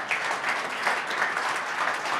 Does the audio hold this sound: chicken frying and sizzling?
no